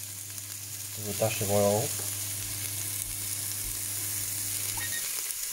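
Sliced onion sizzles in hot oil inside a Breville Sage BPR700BSS Fast Slow Pro combination slow and pressure cooker, a steady close crackle running throughout beneath a brief spoken remark.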